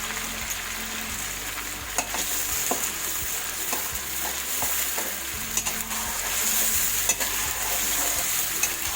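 Steady sizzling of chicken with garlic and ginger paste frying in a pan, with occasional scrapes and stirring clicks over a constant hiss.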